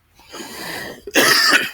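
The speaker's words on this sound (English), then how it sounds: "Let me clear my throat." A man clears his throat twice, close and loud: a rough, gravelly rasp followed by a longer, harsher hacking burst, with no talking.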